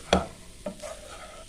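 Fish frying in oil in a pan gives a low sizzle broken by two sharp stirring or turning knocks early on, close and brief, with no one talking.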